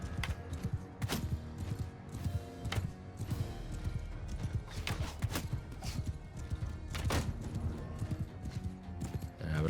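Cavalry and horse archers charging in Mount and Blade 2 Bannerlord, a rolling mass of galloping hoofbeats drumming continuously with occasional horse whinnies and clanking gear, dense and fairly close.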